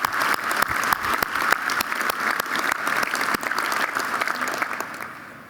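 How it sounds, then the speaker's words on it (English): An audience at a chamber annual meeting applauds with dense, steady clapping from a roomful of people. It stays lively for several seconds before tapering off at the end. "So one last applause, if you will."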